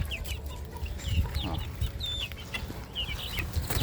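Bulik chickens in a pen give repeated short clucks and squawks close by, with the occasional higher call and scuffling over a low background rumble.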